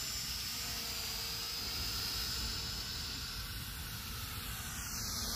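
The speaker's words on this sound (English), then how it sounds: "this is just a toy drone. It's made for drone racing, actually, with an FPV." A toy FPV racing drone flies overhead, its propellers giving a thin, steady high-pitched whine over broad hiss, faint and unbroken throughout.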